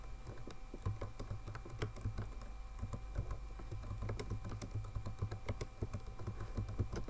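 Typing on a computer keyboard, a close, steady patter of quick key clicks running throughout, fairly quiet, with a low hum underneath.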